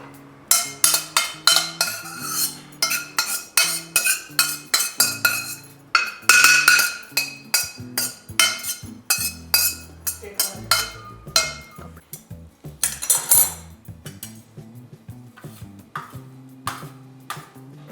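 A utensil repeatedly clinks and taps against a pan while roasted dried coconut is scooped out during garam masala preparation. The sharp metallic strikes come in a quick, uneven series, close and fairly loud, with brief pauses and no talking.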